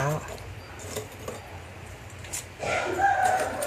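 A rooster crows at a distance, its call rising near the end, while people talk and faint background noise continues.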